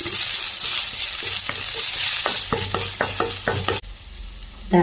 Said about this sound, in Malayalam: ചെറിയുള്ളി ചതച്ച് വെച്ചതും കറിവേപ്പിലയും ചെറിയ ഉള്ളിയും കൂടെ ചതച്ച് വെച്ച് കൊടുക്കാം ജസ്റ്റ് ഒന്ന് മിക്സ് ചെയ്തെടുക്കാം